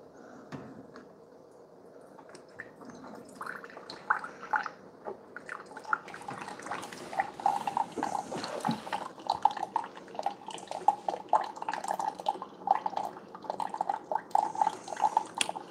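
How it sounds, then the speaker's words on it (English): A Keurig K-Supreme Plus Smart coffee maker runs a fresh hot-water rinse, giving a steady low gurgle with trickling drips and small clicks that grow busier and louder as dispensing goes on, with no talk. "Dispensing hot water. Now this is more of a fresh water rinse."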